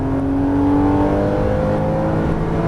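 A Porsche Cayman S drones at steady high load on a racing circuit, its engine tone loud, close and sustained with a strong harmonic whine and no break.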